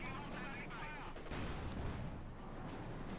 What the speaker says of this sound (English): he's calling in an artillery strike